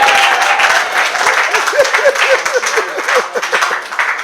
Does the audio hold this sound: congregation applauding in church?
yes